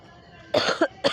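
Two short, sharp coughs from a person suffering a cold with fever, close and fairly loud after a moment of quiet.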